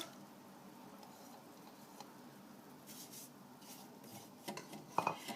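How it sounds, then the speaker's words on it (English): A spatula scrapes around the sides of a metal mixing bowl to work in sugar with egg and milk, faint rubbing at first, then a few sharper clinks and scrapes near the end, close and quiet. "We will be scraping down the sides of the bowl to incorporate all of our sugar"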